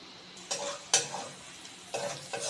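Meat masala and Kashmiri chilli powder fry in a pan for a mutton-fat and sweet pumpkin dish, with a spoon scraping and stirring in a few close strokes over a soft, steady sizzle.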